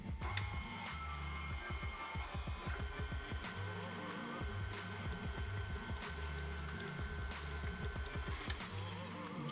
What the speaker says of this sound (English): And then we'll start whipping again.